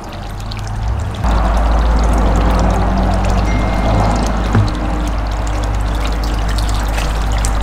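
Pond water pours steadily into a bucket during a small pond makeover, a loud, continuous close-up gush that starts abruptly and keeps running alone without pause.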